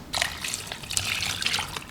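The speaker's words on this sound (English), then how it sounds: "I'm going to add water to this." Water pours steadily onto passion fruit pulp with a soft, splashy trickle, close by and continuous, with no talking.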